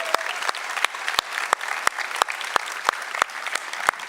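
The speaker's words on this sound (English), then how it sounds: "But first of all, one more applause for this beautiful car." An audience applauds a solar race car at a car reveal, with a sustained bed of clapping punctuated by regular, evenly spaced sharp hits about three per second.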